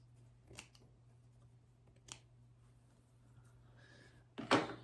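Scissors snip thread tails on a quilt binding, a few quiet, isolated crisp clicks spaced apart, ending in a louder rustling cut, against a low electrical hum.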